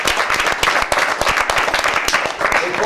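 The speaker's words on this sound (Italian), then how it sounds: "Gli applausi sono degli amici del tuo club Chiasco" Applause from friends of a Torino (Granata) fan club in a TV studio, a dense steady patter of clapping hands lasting throughout, fairly loud and close with no talk over it.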